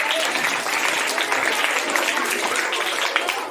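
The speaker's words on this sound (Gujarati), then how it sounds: "સરસ તાળી વગાડો ભાઈ" Audience applause fills a school costume show at Antroli primary school: steady, dense clapping from a crowd, continuous and fairly close, with no pauses.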